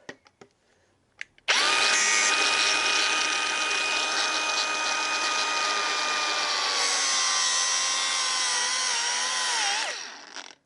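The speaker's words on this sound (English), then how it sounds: "The old angle grinder's dealing with them instead." An angle grinder cuts through metal hose clamps on a Giulietta engine during a teardown, a loud sustained whine with a steady tone that begins after a few faint knocks, runs for about nine seconds, then winds down.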